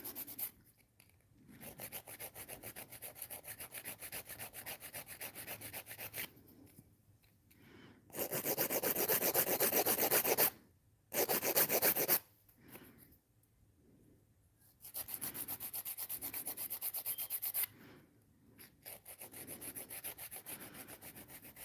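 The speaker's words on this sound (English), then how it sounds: "I'm just going to go in with my drill." An electric nail drill files a hard gel nail overlay in a quiet room, a gritty buzzing hiss that comes in repeated bursts separated by short pauses.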